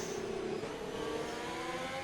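Race car engine in an Xbox racing game at a China circuit, revving in a steady, high, droning whine that holds loud and close for the whole stretch with slight pitch shifts.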